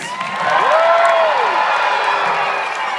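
A fair crowd at an All Alaskan pig race at the OC Fair cheers and claps in a steady, loud, sustained wash of noise, with a brief rising whistle or whoop near the start.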